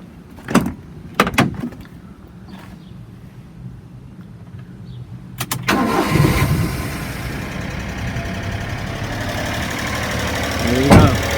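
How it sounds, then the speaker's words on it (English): A Honda Acty pickup truck's engine cranks and catches after a few sharp clicks and clunks, then settles into a steady, fairly loud idle that runs to the end, close by with no talking. "I'm gonna just start the pickup truck for you guys"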